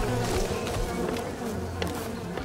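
Bees in the video game Len's Island make a steady, close, droning buzz that fills the whole short stretch, with no voices over it.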